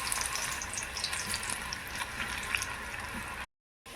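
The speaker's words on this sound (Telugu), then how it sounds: "ఇప్పుడు ఆయిల్ బాగా వేడైంది, కొంచెం సిమ్లో పెట్టేసుకొని చేయి తడుపుకొని మెల్లగా ఇలా వేసుకోండి పకోడీ." Pakoda batter sizzles in hot oil in a kadai over a low flame, a steady, fairly soft crackle running unbroken for several seconds before a brief silence near the end.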